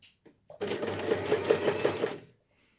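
Sewing machine stitching a fabric water bottle carrier, a single fast steady whirring run of about two seconds, close up, preceded by a few soft handling clicks.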